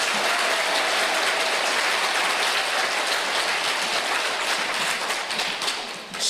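Dense, sustained applause from an audience at a Korean redevelopment briefing, steady and loud throughout, tapering slightly at the end.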